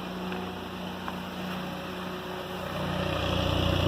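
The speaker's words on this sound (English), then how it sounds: "I got the idles at 900 RPM and they're pretty smooth" A Honda K24 engine idles at 900 RPM in a Honda Insight engine swap, giving a steady, smooth low rumble with a constant hum that swells slightly toward the end, alone and close.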